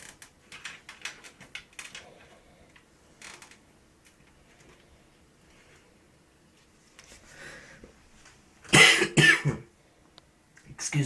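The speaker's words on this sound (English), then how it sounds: "excuse my coughing, I'm a little bit sick" A person sick with a cold coughs a few times while building a gaming PC at a workbench: brief, close coughs in a quiet room, with a louder harsh burst of coughing near the end.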